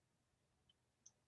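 Three small, sharp computer mouse right-clicks land a few tenths of a second apart over near silence, the last one the loudest.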